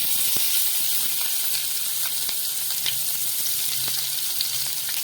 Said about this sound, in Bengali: এবার এর মধ্যে আমি দিয়ে দেবো কেটে রাখা কিছুটা পেঁয়াজ